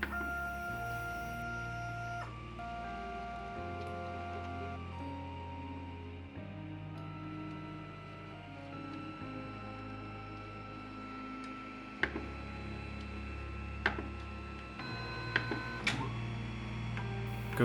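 A JellyBox 3D printer begins a calibration print, its stepper motors humming in shifting tones that change every few seconds, with small clicks and ticks near the end, close and fairly quiet.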